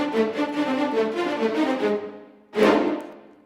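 A produced music passage with notes placed slightly behind the beat, a quick repeating pattern of bright pitched notes that drags a little, then a pause and a single louder struck chord that decays.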